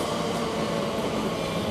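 A Class 345 train on the Shenfield to London Liverpool Street service sounds at Romford station. Its steady, dense rumble and hum stays close and constant throughout this brief moment, with no voices.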